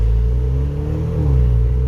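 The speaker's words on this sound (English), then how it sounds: "I'm going to floor it and see how fast it reaches 60." A 2018 Honda Accord 2.0 with a Borla S-type exhaust and a KTuner tune pulls at full throttle from about 20 mph, its engine droning loud and steady with a deep, continuous rumble from inside the cabin.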